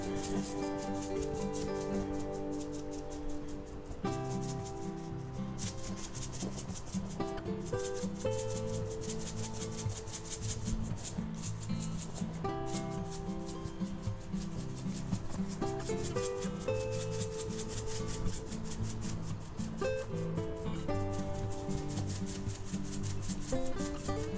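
Coarse kosher salt rubbed by hand onto a thick chuck steak, a steady close scratchy rubbing that runs continuously with brief changes in stroke and no talking.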